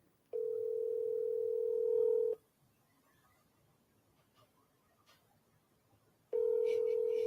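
During a phone call, a steady telephone ring-back tone sounds twice, a long tone, a pause of about four seconds, then the next tone, clear and moderately loud.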